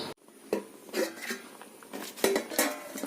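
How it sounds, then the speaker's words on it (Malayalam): A lid settles onto a pan of okra gravy on the stove, giving a few light metallic clinks and scrapes with short gaps between them, close and moderately loud. "ഇതൊന്ന് അടച്ചു വെച്ച് വേവിക്കും"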